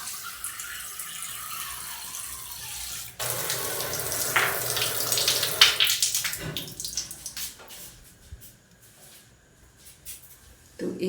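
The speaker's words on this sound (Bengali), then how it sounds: "চলো জলটা নিয়ে নিই।" Cold water running from a tap into a vessel for cooking batter, a quiet start, then a loud steady splashing flow that changes pitch as it fills and tapers off near the end.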